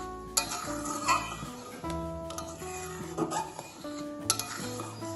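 A spoon stirs dal in a pot, mixing in a spoonful of salt and a quarter spoon of turmeric for a sour raw-mango dal. Metal clinks and scrapes come at irregular moments, close and fairly quiet, with no talking.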